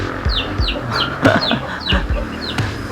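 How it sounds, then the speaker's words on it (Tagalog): A hen clucks repeatedly while laying an egg, in a steady rhythm, close and loud, with sharp rising squawks between the low clucks. "Mimigay na naman ng itlog tong isang manok eh."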